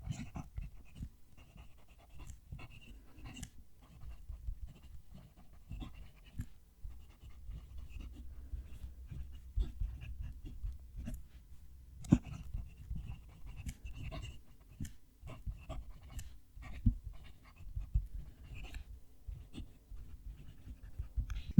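A Ritma fountain pen nib writes on paper with a faint, soft scratching that runs steadily throughout, very quiet over a low background rumble, with no talking.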